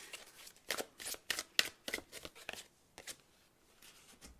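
Divine Animal Oracle card deck being shuffled by hand, a quick run of crisp riffling bursts close up in a quiet room.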